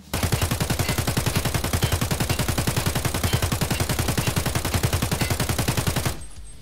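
Sustained automatic rifle fire in Escape From Tarkov, a rapid steady stream of loud, evenly spaced shots for about six seconds before stopping abruptly, with no talking.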